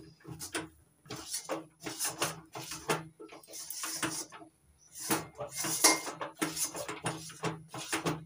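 Palm pulp dough being stirred and mixed with flour in a pan for sweet palm modak, with repeated scraping and clinking strokes of a utensil against the metal in a steady rhythm, close and fairly quiet.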